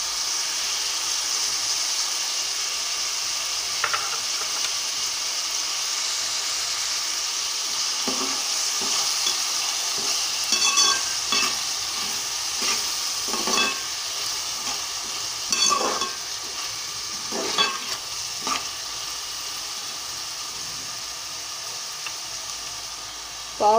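Onions sizzle steadily in a hot pan for egg curry, with a constant frying hiss broken by repeated scraping stirs of a spoon close by.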